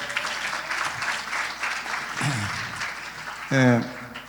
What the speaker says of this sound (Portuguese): Uma salva de palmas para todos esses amados